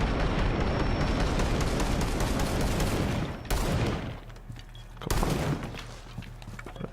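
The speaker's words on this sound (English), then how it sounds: "Starting with rotations, blow up this wall." Loud, dense blast and crackling gunfire roar in Rainbow Six Siege, cutting off sharply and then returning in a second shorter burst as a wall is breached.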